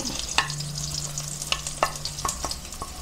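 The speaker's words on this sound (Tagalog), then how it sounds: "ilagay na natin ang sibuyas. Isunod na natin ang bawang" Chopped onion and garlic sauté in hot oil for Filipino giniling. A steady sizzle runs throughout, broken by sharp scrapes and clacks of a spatula stirring the pan, with no talk.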